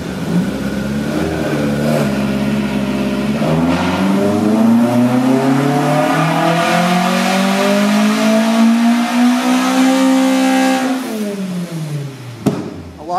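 A 1983 Volkswagen Rabbit GTI engine with the airbox removed and shorter intake trumpets, run loud on a Dynapack dyno: a steady drone climbs in pitch through a long pull for about ten seconds, then falls away as the throttle closes.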